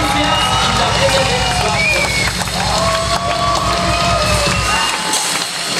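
Crowd at a worship night cheers and applauds the music group, a loud, continuous wash of clapping, whoops and shouts that fills the room, with faint voices mixed in.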